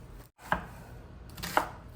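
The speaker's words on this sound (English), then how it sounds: "So just gonna chop these up real quick and put these to the side." A kitchen knife chops vegetables for freezer meal prep, two crisp separate cuts against a board about a second apart, close and clear with faint background hiss.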